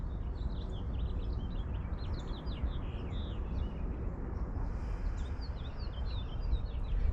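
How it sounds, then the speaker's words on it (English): Birds chirp and call outdoors in the morning, with many small, scattered tweets over a steady, loud broadband background of rumble that may be traffic or wind. "I hear the birds."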